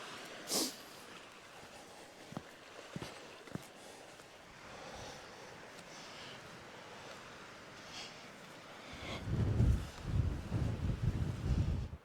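Gusty wind on the west coast of Scotland buffets the microphone at a low level, with occasional faint thumps and a louder rumbling surge near the end.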